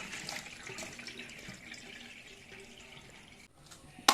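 Boiled pasta being rinsed under cold running tap water in a sink: a steady, moderately quiet stream of water splashing continuously, ending with a sharp clatter.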